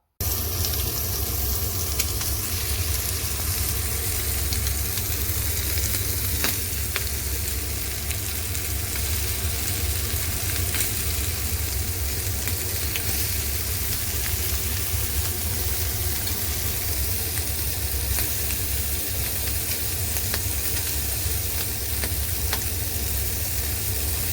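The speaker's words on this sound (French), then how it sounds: "J'ai mis un petit peu d'huile d'olive dans une poêle et je vais les faire cuire comme ça." Food fries in a little olive oil in a pan, producing a dense, continuous sizzle that stays close and steady throughout with faint scrapes of stirring.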